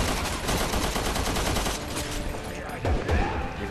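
Rapid machine gun fire in Resident Evil 6 during Chris's campaign, a dense continuous rattle of shots at fairly low level with a few heavier thumps near the end, a voice speaking faintly beneath it.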